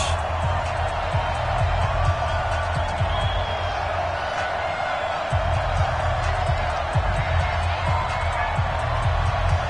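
Stadium crowd noise from an EA Sports NFL game on PS4, Denver Broncos versus Pittsburgh Steelers, a steady loud roar with thumping low hits running through the whole stretch.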